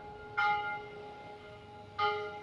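A church bell on Avenida Brasil in Maringá rings at 6:30, two distinct resonant strikes heard at moderate distance, each ringing out and fading, with no talk.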